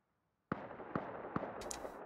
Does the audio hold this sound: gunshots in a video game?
yes